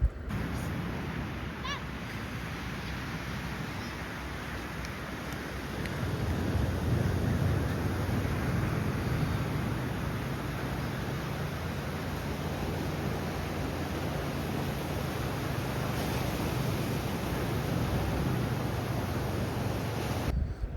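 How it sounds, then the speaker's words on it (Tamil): Waves washing ashore at Paradise Beach, Pondicherry, a steady broadband surf wash that swells louder after the first few seconds and continues evenly, with no talk. "பீச் எவ்வளோ சூப்பராக இருக்குது பாருங்கள்."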